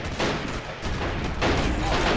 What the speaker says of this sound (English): That was an excellent shot by the artillery cannon.